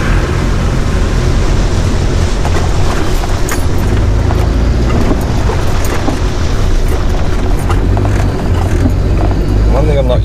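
A 4WD vehicle drives in high range through soft sand on Fraser Island, a loud constant engine drone and rumble throughout, with someone talking over it.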